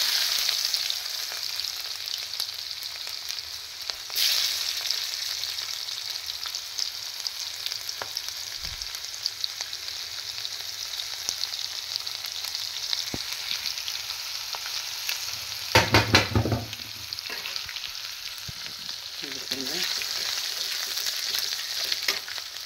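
Cumin seeds and garlic cloves frying in oil in a pan, a steady close sizzle throughout with a few stirring scrapes and a louder burst partway through.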